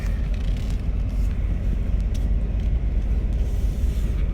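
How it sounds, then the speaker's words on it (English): Heavy industrial vehicles, forklifts and a vacuum truck, rumble close by at a truck-unloading site, a loud, steady low engine drone without pauses. "About to get run over by a forklift and a vacuum truck and another forklift."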